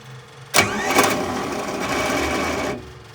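A John Deere 6600 combine's starter cranks the engine over while air is bled from the fuel system: an abrupt start followed by about two seconds of steady, close, loud mechanical whirring, then a sudden stop.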